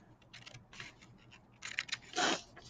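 Scissors snip through paper in a handful of short, quiet cuts, with small pauses between them and one longer, stronger cut near the end.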